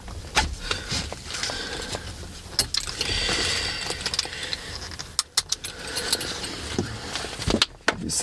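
Schroth Profi 2x2 racing harness belts being loosened: irregular metallic clinks, buckle clicks and webbing rustles close by, with sharp taps scattered throughout.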